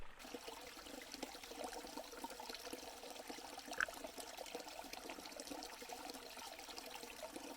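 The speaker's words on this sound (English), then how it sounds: "we still have a trickle of water coming through this thing" A small creek in August heat, dwindled down to a trickle: a faint, steady water sound running and gurgling softly throughout, with one brief sharper splash partway through and no voices.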